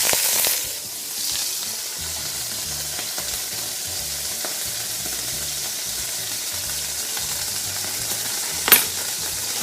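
A steak sizzles steadily in a frying pan with a constant close hiss, faint scraping as it is pushed around, and one sharp clink near the end.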